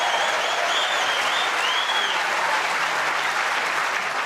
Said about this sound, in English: He encouraged the crowd to applaud more